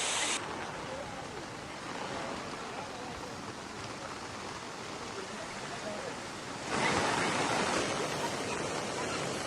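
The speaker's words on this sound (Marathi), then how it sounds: "सह्याद्रीच्या घाटमाथ्यावर मुसळधार पाऊस सुरू आहे" Heavy monsoon rain pours over the Naneghat ghat in the Sahyadri hills, a dense, unbroken roar that swells louder near the end.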